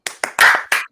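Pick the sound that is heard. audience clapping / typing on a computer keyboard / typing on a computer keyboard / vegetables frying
audience clapping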